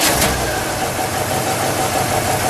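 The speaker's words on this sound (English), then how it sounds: "let's start it up. We'll just let it idle." A 1969 Oldsmobile Hurst/Olds V8 fires up and settles into a steady, loud, close idle with a low rumbling throb and no talking.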